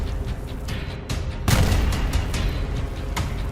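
Wartime gunpowder blasts in the Middle East conflict: a steady rumble of distant firing, then a heavy close boom about midway that leaves a rolling roar, with fainter thuds and cracks around it and no voices.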